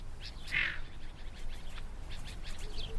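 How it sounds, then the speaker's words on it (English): Chukars and sand partridges call at a desert pool near the Dead Sea, giving a few short, moderately loud clucking cries over a faint outdoor hush. "These are chukars and sand partridges."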